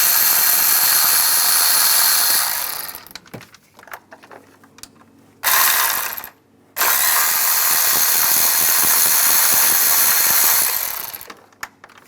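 A power tool loosens valve cover screws on a 2003–2010 BMW X3, with loud buzzing bursts that stop and start in several runs and quiet gaps between them.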